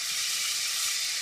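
Butter melting in a pan for broccoli cheese soup, giving a steady, even sizzling hiss, close and unbroken for a brief moment.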